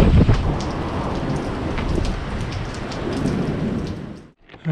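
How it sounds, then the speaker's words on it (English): Steady rain falls outdoors in the Alps during a paragliding trip, a dense continuous hiss that holds for several seconds before abruptly cutting off near the end. "You can see the rain chasing me."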